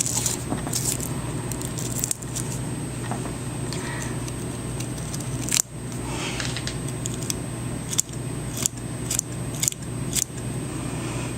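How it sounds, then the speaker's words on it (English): Scissors snipping fly-tying material while tying a sulfur mayfly, a series of short, sharp clicks and snips scattered over several seconds against a steady low room hum, close and fairly quiet. "I think I'm gonna trim these."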